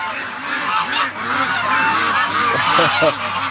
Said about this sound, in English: The ducks just heard me. Listen to them.